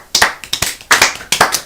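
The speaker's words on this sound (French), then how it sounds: "Donc là, applaudissements." Short bursts of hand clapping, a few quick claps repeated in several close, loud groups with brief pauses between them.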